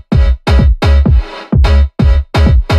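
Tech house loop built from church sounds in FL Studio: heavy, punchy kick-driven hits pulse in a steady rhythm, with a brighter sustained swell in the middle, loud and alone without talk.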